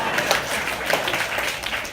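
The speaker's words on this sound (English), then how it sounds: "I love that applause, though" Audience applause and cheering at a poetry book release reading, a steady dense wash of clapping from a crowd, moderately loud, with no talking over it.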